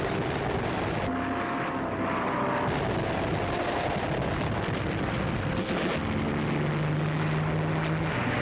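A Focke-Wulf 190 Luftwaffe fighter in wartime footage, its engine a loud, continuous roar with a rising and falling drone, mixed with rumbling, explosive bursts throughout, no voices.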